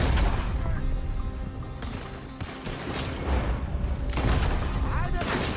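Gunfire rattles through a Red Dead Redemption 2 shootout, with rapid overlapping shots and sharp bangs in quick bursts, some close and loud, while voices shout over the fight.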